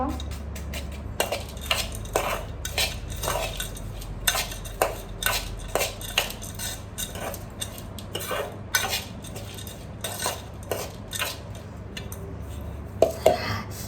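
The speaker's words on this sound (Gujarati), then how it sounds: "પણ વેટ, પહેલાં હલાવી દઉં." A metal spoon stirring food in a cooking pot, with repeated scraping clinks against the pot's side in an uneven rhythm, close and clear over a low background hum.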